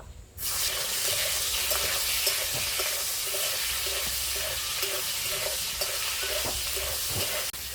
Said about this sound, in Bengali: কড়াইতে তেল দেবো সর্ষের তেল লবণ হলুদ মাখিয়ে রাখা চিংড়ি মাছ এগুলো ভেজে নেব